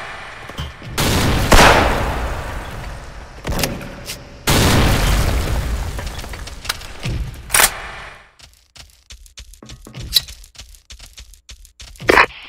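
Grenade blasts in a video game: heavy booms and cracking gunfire rattle through the first half, then sparser sharp shots and pops trail off, loud and close.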